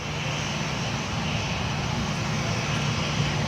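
A Velocity airliner taxiing onto the runway at Gold Coast Airport, heard as a steady, continuous jet engine roar with a low hum that stays even and moderately loud throughout.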